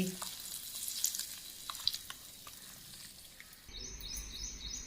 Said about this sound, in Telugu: ఇది గిన్నెలోకి తీసుకొని ఇలా పోపు పెట్టేసుకోవడమేనండి